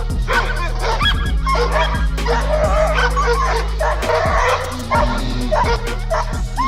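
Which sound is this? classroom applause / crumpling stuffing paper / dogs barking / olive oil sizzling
dogs barking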